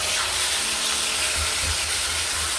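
Porgy fish fries over high heat in hot oil for Jamaican escovitch, giving a steady, close, even sizzle and hiss that runs unbroken throughout with no voices.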